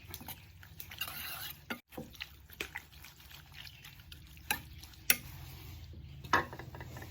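Blood is stirred into a pan of northern Thai beef sa. Soft wet mixing and scraping come in faint, uneven strokes, with a few sharper knocks against the pan.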